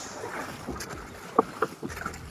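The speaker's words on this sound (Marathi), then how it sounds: "पाण्याचा खळखळ आवाज" Water sloshes and splashes around a traditional rapan fishing boat off Rapan Dandi beach, Malvan, amid broadband wind and water noise, with a few sharper splashes standing out briefly near the end.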